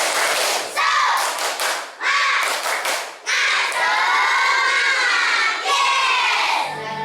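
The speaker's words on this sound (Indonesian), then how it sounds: "Tepuk semangat" Children at an Islamic studies class in Cirebon do the 'tepuk semangat' clapping cheer, loud group claps and shouts in quick rhythmic bursts that swell into sustained cheering voices.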